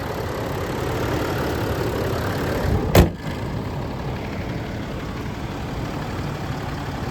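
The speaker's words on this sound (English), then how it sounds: "3 litre V6 diesel, fabulous engine this, been around quite a long time" A 2010 Range Rover Sport with a 3.0-litre V6 diesel engine idles steadily nearby, a constant low rumble broken by one short thud partway through.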